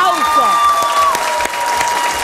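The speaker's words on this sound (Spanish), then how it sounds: "¡Un aplauso!" Studio audience on a Spanish-language talk show breaking into loud applause with light cheering, a dense steady clatter under a musical jingle and a voice.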